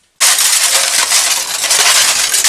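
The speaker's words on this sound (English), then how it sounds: "it really broke when it hit that sidewalk" A glass window pane shatters on a sidewalk in one sudden, loud burst of crashing, crunching glass that continues as dense, bright debris noise for about two seconds.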